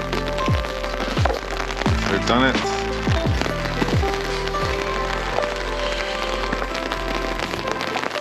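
Steady rain falls outdoors in Iceland, a dense patter of drops on surfaces throughout, with people talking over it.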